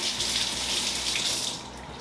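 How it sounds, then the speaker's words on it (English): Hands being washed under a kitchen sink tap, a steady hiss of running water close by that eases slightly near the end. "I need to wash my hands off real quick."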